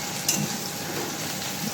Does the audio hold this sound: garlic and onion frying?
yes